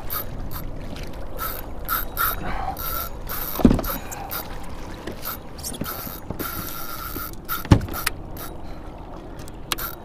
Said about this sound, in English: you're pulling up your damn anchor